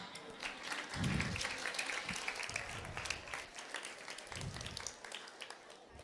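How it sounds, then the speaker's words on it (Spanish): Audience at a youth religious gathering breaking into brief applause, fairly quiet clapping with a few louder low bursts of crowd noise, heard as a short round after a prompt from a speaker. "Un aplauso."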